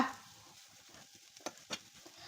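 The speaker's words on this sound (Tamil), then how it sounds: "இந்த மாதிரி நல்லா கிண்டி கொடுத்துக்கோங்க" Chicken being stirred into masala in a pan, a quiet steady sizzle with a few soft scraping strokes of the spoon, faint and close, no talking.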